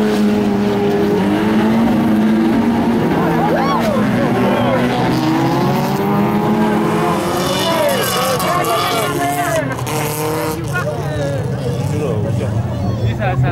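A race car engine roars and climbs in pitch as it accelerates at an autocross event at La Faloise, with crowd noise and commentary-like voices mixed underneath throughout.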